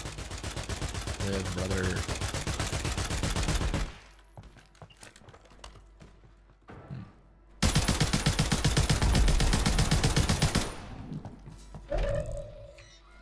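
Bursts of rapid video-game gunfire fill two stretches, loud and dense, separated by a quieter gap with scattered shots, while a player talks briefly over the action.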